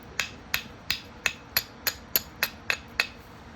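Direct percussion flintknapping on flat stone gives ten sharp, evenly spaced strikes about every third of a second, each a bright clack with a short ring, close and alone.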